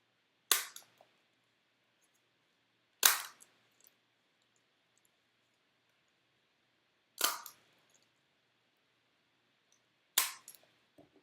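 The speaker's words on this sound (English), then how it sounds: "Once you get it to this desired space, you're going to staple 4 times." Four sharp, separate stapler snaps fasten a paper captain's cap, each one loud and close with a short clack afterwards, spaced a few seconds apart in near silence.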